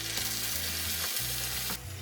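Tomatoes and tomato paste being stirred through a hot pan for a tuna and red lentil pasta sauce, giving a steady close sizzle with scraping spoon strokes throughout, no talking.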